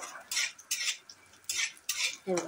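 Dry fruits such as cashews, almonds, pistachios and raisins being roasted in ghee while a spoon scrapes and stirs the pan, giving four or five short metallic stirring bursts with a faint sizzle beneath.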